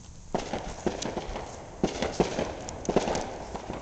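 Neighbors setting off fireworks at night, including artillery-style shells: a series of sharp bangs and pops scattered irregularly across the clip, moderately distant and echoing, with no talking.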